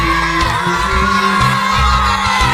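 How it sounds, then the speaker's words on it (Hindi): Schoolchildren at a mock panchayat election at a village school in Kushinagar cheer and shout together, a dense, loud crowd roar with whoops throughout, though distinct clapping is hard to pick out. "बच्चों के करतल ध्वनि और चिल्लाहट की आवाज़ें सुनाई दे रही हैं"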